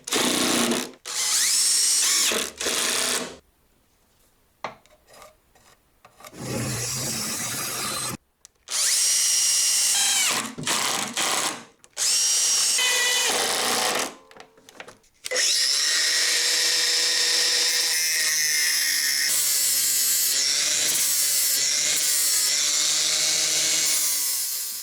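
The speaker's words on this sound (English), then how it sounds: "cut that on the bandsaw and bring it over and screw it onto the side of the machine" Scrap wood is cut on a bandsaw, then a power screwdriver drives screws fixing it onto the side of a homemade jointer, loud bursts of whining tool noise broken by short quiet gaps, ending in a long sustained run.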